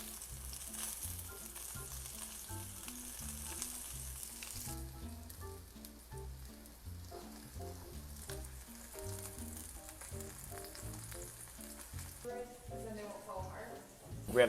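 Nectarines sear in a hot pan with a steady sizzle, frying quietly beneath near, continuous talk with a few stirring clatters toward the end.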